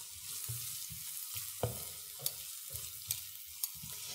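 Onion sautéing in a pan: a soft, quiet sizzle with a faint hiss, broken by several light scraping and stirring clicks at irregular intervals.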